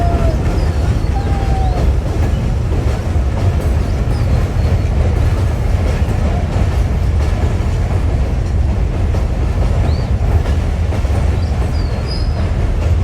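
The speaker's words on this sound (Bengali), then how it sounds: "হার্ডিং ব্রিজে ট্রেন যাওয়ার দৃশ্যটা অনেক ভালো লেগেছে আমার" A train crossing the British-era Hardinge Bridge, a loud continuous rumble of wheels on rails with steady rattling and a faint squeal, sustained throughout with no voices.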